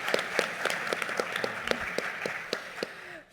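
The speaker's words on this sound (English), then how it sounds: "Let's give her a round of applause" Applause from a small group at a mental health symposium, a scattering of distinct claps at a fairly steady pace, fading out toward the end.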